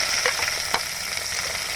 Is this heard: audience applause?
no